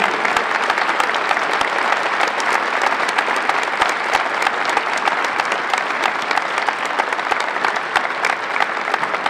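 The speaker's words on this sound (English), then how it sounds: "let's have one more round of applause for Alan and Roberta Whetzel and the Whetzel family." A large crowd applauds steadily and loudly at a university basketball court dedication ceremony, dense clapping sustained without a break and no one speaking.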